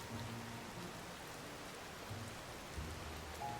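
Steady rain falls in The Legend of Zelda: Tears of the Kingdom as a soft, continuous hiss with faint low rumbles underneath, quiet and with no voices.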